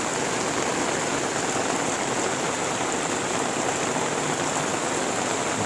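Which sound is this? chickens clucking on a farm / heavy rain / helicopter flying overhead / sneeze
heavy rain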